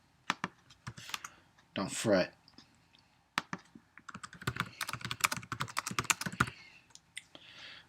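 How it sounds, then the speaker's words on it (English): Someone types on a computer keyboard in bursts of rapid, close clicks and taps, pausing between runs, with a person briefly speaking. "So if you hear me typing, which you will,"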